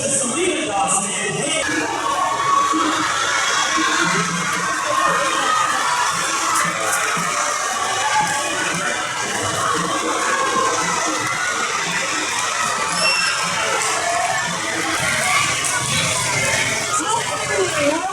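Students cheer and shout together at a school pep rally, a loud, steady crowd roar that holds for the whole stretch with no break.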